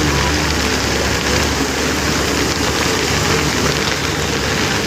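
Heavy rain pours in a steady, loud, unbroken wash of broadband hiss with a low rumble underneath, close by and with no voices.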